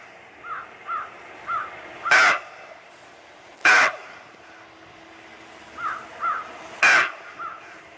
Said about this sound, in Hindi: ये पक्षियों की आवाजें